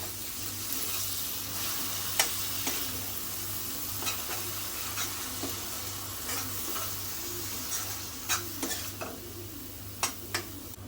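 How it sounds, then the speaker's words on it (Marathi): Ground masala paste sautéing in a pan for a prawn curry, a constant close sizzle with scattered clicks and scrapes of a spoon stirring against the pan, no voices. "वाटण थोडं एक मिनिटासाठी परतून घ्यायचं आपल्याला"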